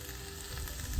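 Small potatoes sizzle steadily as they fry in a pan, a continuous close crackling hiss with no voices over it.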